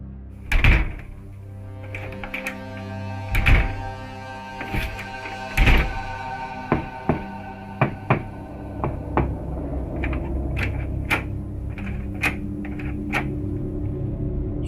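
Heavy knocks on a door in a Tagalog horror story about an aswang in Mindoro. Several loud, spaced thuds are followed by a run of lighter taps over a low, eerie drone.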